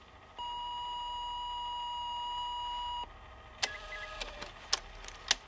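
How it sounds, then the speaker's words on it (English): A single long, steady electronic beep sounds for a few seconds, then stops, followed by faint clicks and clatter of a handset in a quiet room. "if you leave your name and number at the beep"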